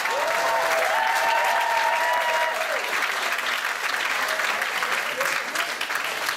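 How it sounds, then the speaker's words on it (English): An audience at a community coffee house bursts into loud, dense applause, continuous clapping and some cheering that stays full for the whole stretch, close and lively. "let's give them both a round of applause"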